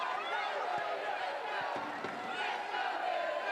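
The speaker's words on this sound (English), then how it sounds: "that's woken up the Villa crowd here" A large home crowd at a Women's Super League match between Aston Villa and Tottenham roars and murmurs steadily, a broad, distant wash of stadium noise under a commentator's voice.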